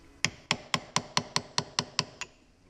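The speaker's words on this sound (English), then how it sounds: "to pop the balls out, I'm using a brass screwdriver type thing for gun cleaning" A brass gun-cleaning screwdriver is tapped against the cage of a Jeep Grand Cherokee WJ CV joint to pop the balls out. Nine sharp metallic taps land at a steady, even rhythm, close and clear, followed by a softer final tap.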